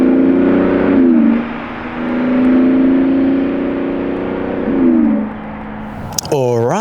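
A black Lamborghini Urus S drives past on the road with a steady engine hum that rises and falls as it revs and shifts, then a voice speaks briefly at the end.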